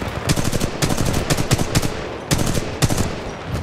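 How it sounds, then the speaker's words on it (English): Rapid automatic weapon fire in the shooter video game Titanfall 2 crackles in dense, loud bursts. The shots come in quick rattling strings with brief pauses and a few sharper reports. "I almost accidentally shot that man."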